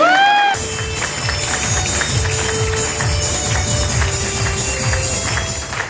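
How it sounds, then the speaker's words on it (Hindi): Audience applause at a motivational talk by Banker D Kumar, a steady dense clatter of claps with crowd noise running throughout after a brief opening tone, fairly loud and continuous. "तालियां तो बजा दो भाई।"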